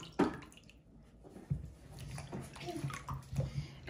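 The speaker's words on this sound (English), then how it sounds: "We're gonna wash all that trash off the coconut and call it a day" A coconut is scrubbed and rinsed in a basin of water, with sloshing, splashing and small drips coming in uneven bursts at close range.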